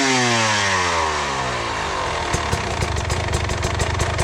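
Motorcycle engine from a hard enduro bike unwinds from high revs, the pitch sliding steadily down over a few seconds before settling into a loud, close, lumpy idle with rhythmic pulses.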